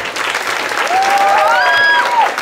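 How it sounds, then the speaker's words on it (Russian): An audience applauds a judge at a 2014 championship parade of participants, giving a dense, steady burst of clapping with a whistle rising over it. "спасибо, что вы похлопали Евгению"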